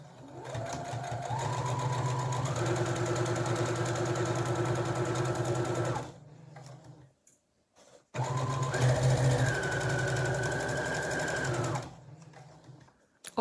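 A sewing machine stitches fabric for a drawstring bag in two long close runs, its motor whirring and rising in pitch as it speeds up, with a short pause between runs.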